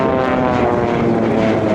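A Pilatus PC-7 propeller aircraft of the Swiss Air Force flying a display at the Kleine Brogel airshow, a loud steady droning engine and propeller hum throughout.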